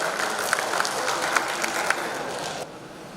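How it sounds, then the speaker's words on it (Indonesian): An audience at a Malang city investment awards event applauds with dense, moderately loud clapping for over two seconds before it drops away to quiet room noise. "Tepuk tangan sekali lagi untuk Kota Malang."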